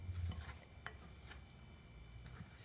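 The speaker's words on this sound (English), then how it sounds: "So you mix it like this, and as you can see, it is still lumpy and not very elastic" Bread dough for bacon and cheese scrolls being mixed by hand with oil and flour, a soft, wet, lumpy squelching and stirring with a few light clicks against the bowl, close and fairly quiet.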